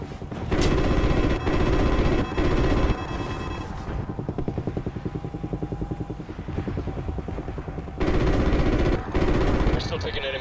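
Anti-aircraft gunfire in a Call of Duty flight mission: sustained rapid automatic bursts with loud heavy booming stretches, continuous under radio chatter and engine drone.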